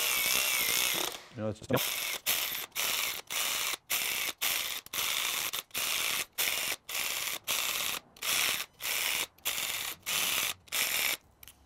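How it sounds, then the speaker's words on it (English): Rapid ratchet strokes snug down bolts on a 350 small block Chevy engine, a steady train of about fifteen short rasping bursts with brief gaps, close and fairly loud, after a clatter near the start and a couple of words spoken. "I snugged it down with the little ratchet"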